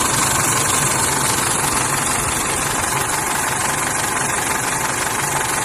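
A 2005 Isuzu D-Max SX pickup with a 2.5-litre common-rail diesel runs steadily at idle, loud and close, with a constant rough clatter and faint ticking, heard without any talk.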